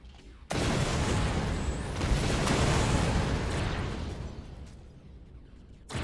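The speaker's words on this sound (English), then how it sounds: "You can hear my railgun just getting pounded right now." In the Empyrion space game, a ship's railgun takes heavy enemy fire, giving a dense, loud, continuous roar of booming impacts and rumbling blasts that swells and then slowly eases over several seconds.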